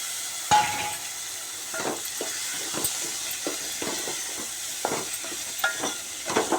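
Green beans fry in a pan while a spoon stirs them, giving a steady sizzling hiss broken by repeated scraping stirs at an irregular rhythm, close and clear.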